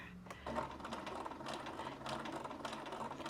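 A sewing machine stitching in reverse for a back stitch, a steady fast mechanical whirring and ratcheting that starts after a brief pause and runs on, close and clear with no talk.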